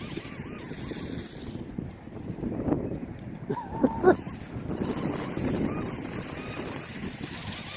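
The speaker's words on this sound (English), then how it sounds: "it's windy out here like this" Steady wind gusts buffet an outdoor microphone while a Syma Hoverboost toy flying car is tested, a continuous broadband rush with a few brief bumps and no talking.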